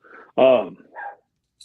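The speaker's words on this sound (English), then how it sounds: "dog's talking to someone" A dog gives a short sequence of vocal barks and woofs, one loud bark in the middle flanked by softer grumbling yips, close by and alone.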